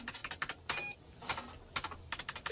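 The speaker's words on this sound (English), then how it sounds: "What is he typing?" Fingers type on a keyboard in quick irregular bursts of clicking keystrokes, with short pauses between runs. The sound is quiet and close, with no voices.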